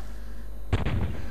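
Cannon fire in the strategy video game Svea Rike II: a sudden booming blast that rolls into a rumbling, crackling tail, loud and close, with no voices.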